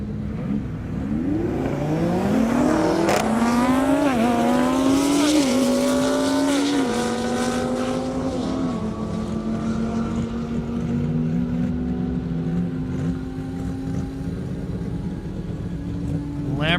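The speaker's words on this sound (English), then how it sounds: "Lamborghini looking a little stealthy down the strip there" A Lamborghini Huracan tears down a half-mile airstrip at a 200+ mph Indy racing event, its loud engine climbing in pitch through several quick upshifts, then holding a steady high-speed drone as it passes.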